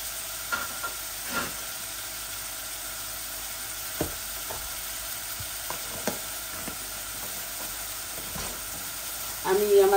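Garlic frying in a pan with cherry tomatoes and salmon head cooking, a continuous soft sizzle with scattered stirring taps and scrapes, close by, ending in a louder burst of hiss.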